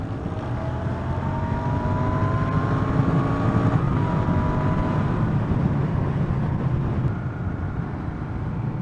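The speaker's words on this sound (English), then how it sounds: "I do think it needs just a little bit more burble out of those exhausts" Royal Enfield Continental GT or Interceptor twin cruising in top gear around 2000 rpm, a steady, continuous engine and exhaust drone with rising harmonic whine and wind noise, unbroken throughout.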